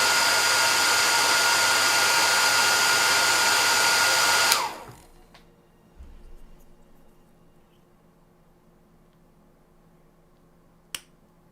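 A hair dryer blows steadily and loudly for about four and a half seconds, then cuts off abruptly, leaving a quiet room with a faint later thump and one sharp click.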